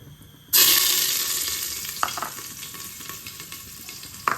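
Ajwain and ginger dropped into hot oil for an arbi sabzi burst into a loud sizzle, which then settles into steady frying with a few faint clinks and stirring scrapes. No one speaks.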